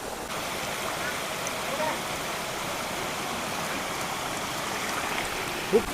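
Steady roar of rushing water from a hot spring waterfall in Krabi, a constant broadband wash with no breaks, heard from nearby.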